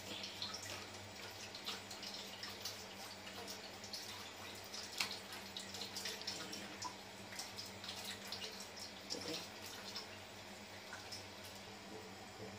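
A faint, steady wash of water running from a kitchen tap into a basin while preparing congee, with small splashes and drips throughout and no talking.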